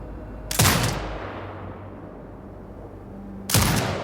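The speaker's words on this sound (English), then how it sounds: "Exit binocular mode and command the turret to fire." A mounted turret fires two heavy, booming shots about three seconds apart in Sniper Ghost Warrior Contracts 2, each blast trailing off into a long rolling echo.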